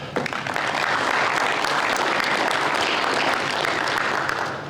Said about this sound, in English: So give all those folks a round of applause if you would.